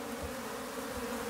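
Honeybees hum in a dense, steady drone during a transfer from a nuc box into a full hive, close and continuous, with no voices.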